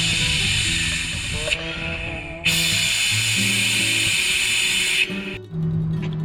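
Brake fluid being sucked through the lines while bleeding the brakes on a 6x6 Perentie: a loud, hissing whine that starts and stops several times, heard up close.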